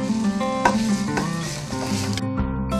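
Onions sizzle and fry steadily in a hot pan while being stirred for veg spring rolls, a continuous close crackle with soft scraping strokes and no talking.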